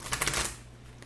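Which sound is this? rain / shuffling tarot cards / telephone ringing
shuffling tarot cards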